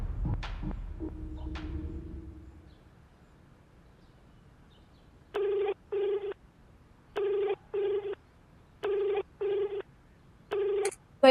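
A phone ringback tone repeats in evenly spaced double pulses on a call that goes unanswered, following a few seconds of low rumbling and soft noise at the start.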